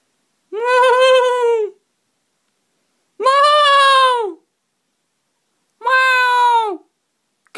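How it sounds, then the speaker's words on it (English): A domestic cat watching a fox through a window lets out three long, loud, drawn-out meows close by, evenly spaced with short silences between them. "That's a cat."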